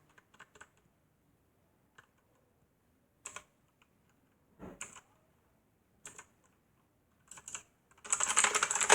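Typing on a new computer keyboard heard up close: scattered bursts of keystrokes separated by quiet pauses, ending in a rapid, louder run of continuous typing.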